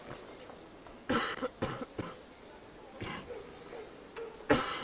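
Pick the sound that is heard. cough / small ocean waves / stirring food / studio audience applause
cough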